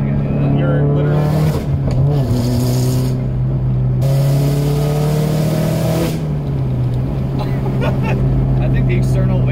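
A loud turbocharged Subaru WRX engine of about 400 wheel horsepower with an external wastegate drones and revs close by, with a sharp turbo whoosh between throttle changes, while people talk over it.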